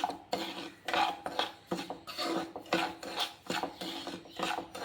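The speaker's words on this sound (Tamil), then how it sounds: "நெய்யில் வதக்கிட்டு தான் நம்ம செய்யணும்" Semolina (rava) roasting in melted ghee in a pan, stirred with a utensil that gives repeated rasping, scraping strokes against the metal in an uneven rhythm, close and fairly quiet, with no talking.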